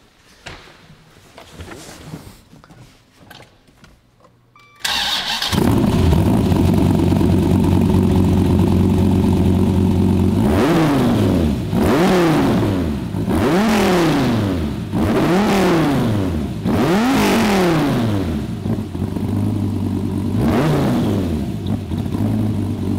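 A modified Dodge Viper ACR's engine fires up with a loud roar, then settles and is revved repeatedly in rising and falling bursts, close and loud near the exhaust.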